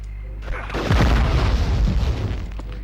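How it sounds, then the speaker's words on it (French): Grenade explosions in the Medal of Honor video game: a deep, loud boom swells up and rumbles on for about two seconds, with debris-like crackle over the low roar. "Efficace ces grenades, faudrait que je m'en serve plus."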